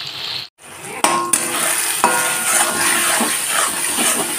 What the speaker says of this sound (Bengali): এখন মশলাটা দিয়ে ভালো করে কষে নেব।